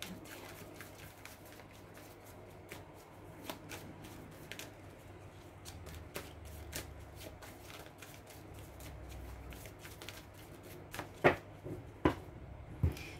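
A deck of tarot cards is shuffled and cut by hand, giving a soft, continuous papery riffle with sharper snaps and taps toward the end, close and fairly quiet.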